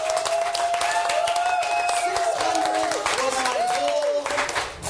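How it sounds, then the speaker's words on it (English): A crowd of about 600 applauds at a Comic-Con convention panel, dense continuous clapping and cheering with voices talking and shouting over it throughout. "Give yourselves a round of applause"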